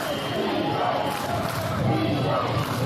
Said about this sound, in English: The classic defense call rings out across the arena.